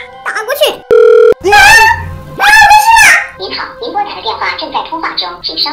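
A landline telephone number is dialed late at night: a short burst of dial-tone beeps rises clearly, then a voice speaks loudly and other voices follow.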